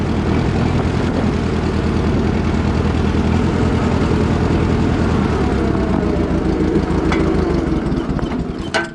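Beetle tractor engine idling steadily nearby, a loud continuous low rumble with a constant even texture that eases slightly at the very end.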